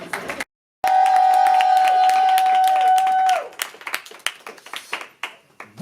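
An audience at a slam poetry evening applauds a young poet with a burst of loud clapping. A steady feedback-like tone runs over it, and the clapping then thins to scattered claps.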